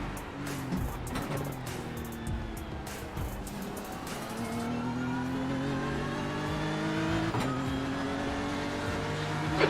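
BMW race car engine during the Bathurst 12 Hour, a sustained motor drone with shifting pitch bands and occasional revs, steady and fairly close throughout, with brief faint chatter underneath.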